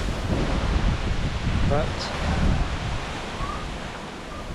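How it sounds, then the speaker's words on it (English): Strong wind from Typhoon Egay in the Philippines roars and buffets the microphone steadily throughout, with a brief spoken word in the middle. "It's very windy"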